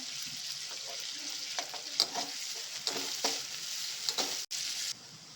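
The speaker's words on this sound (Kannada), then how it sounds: "ಈರುಳ್ಳಿ ಸ್ವಲ್ಪ ಕೆಂಪು ಫ್ರೈ ಮಾಡ್ಕೊಳ್ಳೋಣ ಒಂದು ಕಡ್ಡಿಯಷ್ಟು ಕರಿಬೇಸೊಪ್ಪು ಕೂಡ ಹಾಕ್ಕೊಳ್ತಾ ಇದಕ್ಕೆ" Onions and curry leaves fry in a hot pan, giving a steady soft sizzle with brief stirring scrapes and clicks, close and alone, with no voices.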